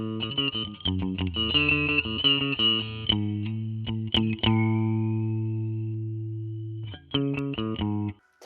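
Electric guitar through a distorted, growling MoogerFooger filter pedal plugin on a shelved notch preset: choppy strummed chords, then a long sustained chord ringing out before a few more hits.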